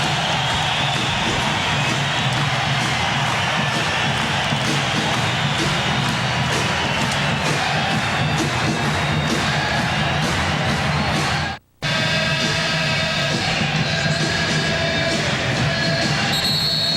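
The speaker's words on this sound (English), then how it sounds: "The Chicago Bulls gave their fans reason to cheer in that 51-second stretch, and the fans responded" Chicago Bulls fans roar in the arena during a 1996 NBA playoff game against the New York Knicks, a loud, sustained crowd din that holds steady with a momentary dropout partway through.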